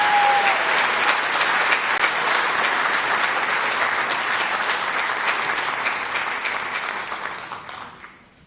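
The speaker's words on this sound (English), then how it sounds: "Please make a round of applause." Crowd at a high school varsity award ceremony applauds loudly and steadily, a dense wash of clapping that tapers off and fades out at the end.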